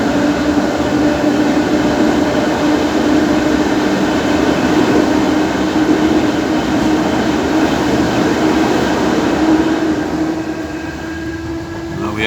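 An Irish Rail DART train runs loud and steady through a tunnel near Greystones, a continuous rumbling roar with tonal hum that eases slightly near the end.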